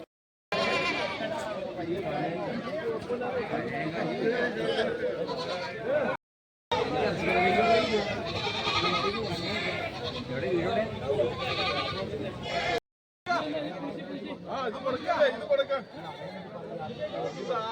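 Goats bleat loudly and repeatedly at a busy livestock market in Kerala, their calls overlapping with steady crowd chatter and voices throughout, with two brief silent breaks.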